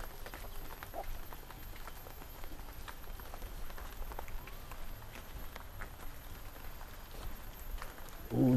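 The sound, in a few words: rain falling in a Sundanese village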